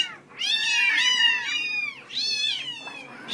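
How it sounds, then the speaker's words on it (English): A mother cat and her kittens meow close by, with two loud, drawn-out, high cries in a row and a fainter mew after them, and no talk. "Look at that. All those cats. Good cats."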